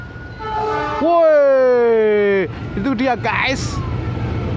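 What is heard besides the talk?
CC206 locomotive train passing near Gubeng station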